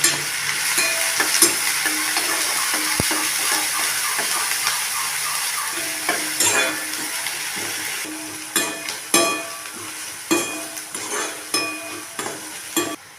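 Steady sizzling and crackling of chopped onions frying in hot oil, with scraping stirs and clattering spoon knocks that grow more frequent toward the end.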